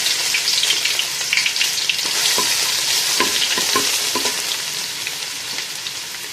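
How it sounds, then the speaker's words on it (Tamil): Ginger dropped into hot oil and ghee for tempering crackles and sizzles loudly, with a steady frying hiss broken by sharp pops and spatters, close up and without voices. "இப்போ இஞ்சியை போட்டுக்கலாம்"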